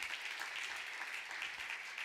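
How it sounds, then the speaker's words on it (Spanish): A church congregation at a Friday service gives a faint, distant round of applause, a soft steady patter of clapping lasting a couple of seconds. "Dele ese aplauso"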